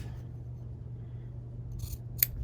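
Scissors trim quilt blocks with a couple of short, crisp snips near the end, close to the mic, after a quiet stretch with a low background hum.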